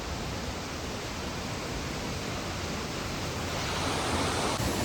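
Keralamkundu waterfall pours water at a medium flow, a broad steady roar of rushing water filling the whole stretch, even and close, with no voices.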